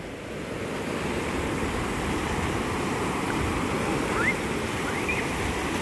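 Ocean surf rolling onto a beach where children are swimming, a steady broad wash of breaking waves with wind noise, continuous and moderately loud, with faint distant voices.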